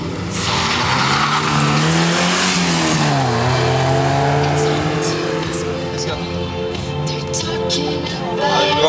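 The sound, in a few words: Golf GTI race car accelerating on hill climb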